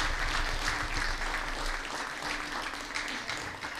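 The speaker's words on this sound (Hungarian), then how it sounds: "Nagyon megérdemlik a tapsot" An audience applauds after a folk dance performance at an Advent gala held by a folk tradition group, steady clapping at moderate volume that thins slightly toward the end.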